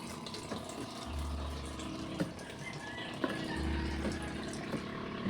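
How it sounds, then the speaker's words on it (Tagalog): A thin stream of water runs weakly from a kitchen tap in a steady flow, with a few faint clicks and knocks around it. "Napakahina ng tubig"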